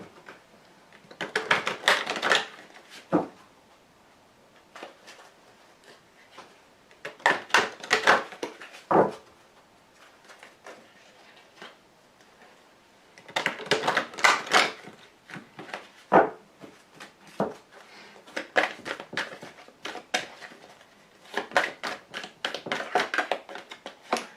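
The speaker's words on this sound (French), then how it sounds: "je vais tirer donc 5 cartes avec le grand jeu de Mademoiselle Lenormand" Lenormand fortune-telling cards from the Grand Jeu being shuffled and laid down, in repeated bursts of crisp riffling and slapping with quiet gaps between, close and fairly loud.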